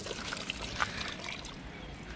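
A short trickle of water pours from a hand pump in a garden in Schöneberg, Berlin, a soft, close splashing with a few faint clinks.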